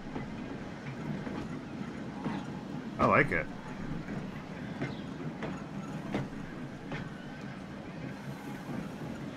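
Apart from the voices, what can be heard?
tram running, from video game Transport Fever 2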